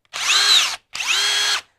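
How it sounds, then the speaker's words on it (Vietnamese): A cordless battery drill in drill mode with a 10 mm chuck runs in two short bursts of high whine, each spinning up and cutting off cleanly, with a brief silent gap between them. "Rất là khỏe anh em nhé, có chế độ khoan này"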